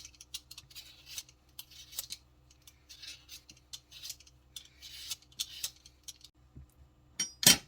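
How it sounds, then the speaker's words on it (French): Potatoes being peeled for a potato and onion omelette, heard as rapid, light scraping strokes in irregular bursts, close and fairly faint, ending with a louder clatter, no talk. "pendant que l'huile chauffe, on va éplucher les patates"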